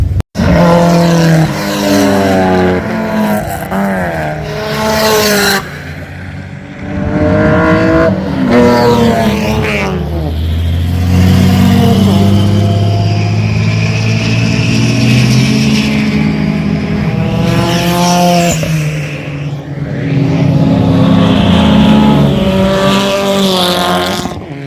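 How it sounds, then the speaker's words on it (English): Race cars at Zwartkops Raceway roar past in loud bursts, engines revving up and down through gear changes, with brief lulls between passes and some tyre noise. "got some crazy race cars over here"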